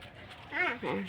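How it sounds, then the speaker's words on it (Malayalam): A neighbour's dog gives two short, close whimpering yelps in quick succession over a quiet background. "അപ്പുറത്തെ വീട്ടിലെ പട്ടി"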